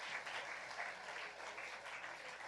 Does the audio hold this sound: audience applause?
yes